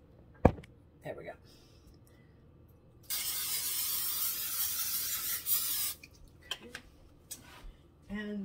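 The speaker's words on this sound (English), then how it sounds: "So we're going to spray the pan." Cooking spray hisses onto a pan in one steady three-second burst, loud and close, set between clicks, handling knocks and brief talk.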